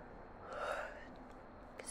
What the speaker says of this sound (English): I am just yawning like crazy.